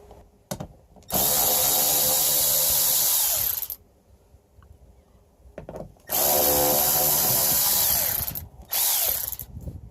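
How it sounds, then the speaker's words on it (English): A small impact ratchet whirs loudly on the mud flap bolts of a Ford F450 truck in two long bursts and a shorter third, separated by quieter handling noises. "I'm going to use my little impact ratchet here"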